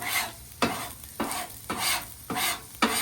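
A steak chimichurri cowboy stir fry tossed in a sizzling pan with tallow and a pan sauce, about five sharp scraping tosses at regular intervals over a continuous close sizzle.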